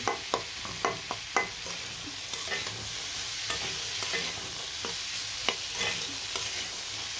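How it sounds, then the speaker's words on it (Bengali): Chickpeas with spices being stirred and fried in a pan, a quiet continuous sizzle with a run of sharp spoon taps and scrapes early on, then sparser stirring. "সবগুলা বুট দিয়ে নাড়াচাড়া দিয়ে খুব সুন্দরভাবে কিন্তু ভেজে নেব"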